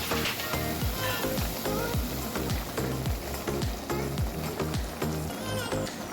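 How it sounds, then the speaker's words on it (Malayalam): Tamarind water bubbles in a pot with a steady sputtering, soft repeated pops over a constant hiss, close by. "പുളി നല്ലോണം തിളച്ചു"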